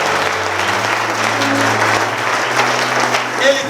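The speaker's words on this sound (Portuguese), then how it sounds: "Vamos aplaudir a esse Deus" A church congregation applauds in a steady, dense wash of clapping that holds loud for the whole stretch, with a low sustained tone beneath.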